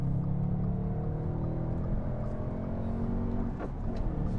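An Audi S5 with a V8 and six-speed manual accelerates, a loud, close engine drone holding steady, then climbing in pitch near the end as revs rise, with no talking.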